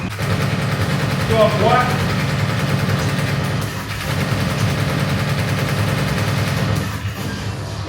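Rapid gunfire from a Terminator-themed light gun arcade shooter, with bursts of shots over game engine drone and effects, while a person talks briefly.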